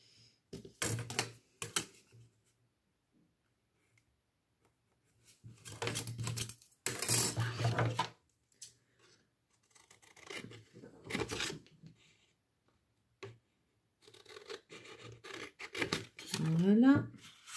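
Scissors snip through a second cardstock ATC card for a scrapbooking pouch, giving short clusters of crisp, close cutting sounds separated by quiet pauses.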